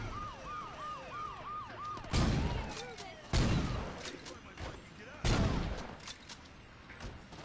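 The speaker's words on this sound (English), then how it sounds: "What are they shooting at?" Sharp gunshot bursts ring out in a video game street scene, three loud cracks spaced a second or two apart, with a wailing police siren sweeping in the background first.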